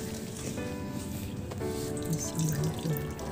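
Excess water drips and trickles steadily from blended cassava (kamoteng kahoy) set in a kitchen strainer, a close, soft, continuous wet patter with no talking.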